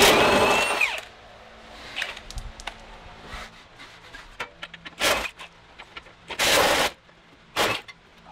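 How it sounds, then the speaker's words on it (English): Impact wrench unbolting the subframe of a Nissan 350z during VQ35DE engine removal, heard as several short loud bursts of rattling hammering spread across the clip, with quieter tool clatter in between. "with our impact, and we are gonna unbolt the subframe"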